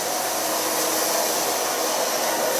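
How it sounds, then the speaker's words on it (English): A hair dryer blows steadily and loudly, a constant close-up whoosh of air drying freshly colored hair with no other sound over it. "So now just blow dry it a bit."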